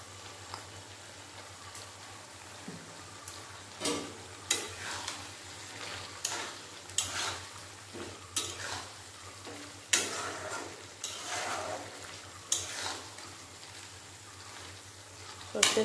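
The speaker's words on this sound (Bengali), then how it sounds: "সরষের তেল দিয়েও 1-2 মিনিটের মতো আবার ফুটিয়ে নিলাম আমি" Bottle gourd and poppy seed curry simmering in a pan after a drizzle of mustard oil, a soft bubbling sizzle with intermittent stirring scrapes and spoon knocks over a low steady hum.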